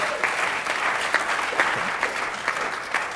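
Steady applause from a startup event audience, a dense continuous wash of clapping with a few sharper claps standing out, heard alone without talk.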